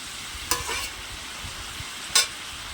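Pointed gourd (potol) frying uncovered in a pan, a low steady sizzle punctuated by two sharp scraping clinks of a spatula stirring the pieces, with no speech.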